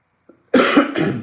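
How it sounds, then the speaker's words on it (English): A faint throat noise gives way to two loud, close coughs from a woman who has been feeling unwell, each a harsh burst following quickly on the last. "Let me cough into this."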